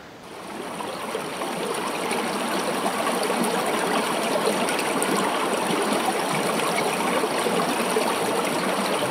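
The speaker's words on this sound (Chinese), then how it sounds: "它这个白噪音会是随机的，每一天都不太一样" A Google Nest Hub 2 smart display plays flowing-water white noise: a steady, even rush like a stream that runs unbroken and fairly loud through the whole stretch, with no talking.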